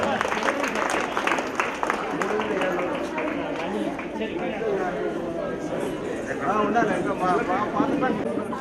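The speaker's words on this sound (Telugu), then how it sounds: "గట్టిగా చప్పట్లతో స్వాగతం చెబుతాం." Applause from a crowd welcoming a guest at a school alumni get-together, a dense patter of clapping that carries on steadily throughout, mixed with voices and chatter.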